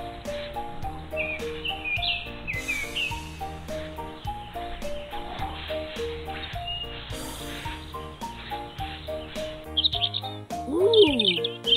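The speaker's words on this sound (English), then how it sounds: "it's the sound of birds singing on the trees." Birds singing in trees at a flower-filled playground, bright chirps and whistled calls scattered over a background of electronic music, growing louder near the end.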